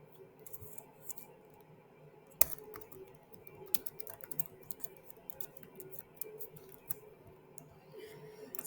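Quiet clicking of keys on a computer keyboard as a password is typed, irregular light taps at close range over a low steady background hum.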